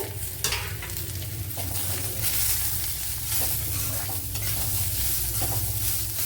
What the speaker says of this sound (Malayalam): ഇനി ഇതുപോലെ ഒരു വലിയൊരു സവാള എടുത്തിട്ടുണ്ട് അത് ഇട്ട് കൊടുക്കുക